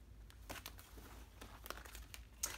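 Ancient oracle cards being shuffled and pulled, giving faint, brief crinkling and flicking rustles in a quiet room.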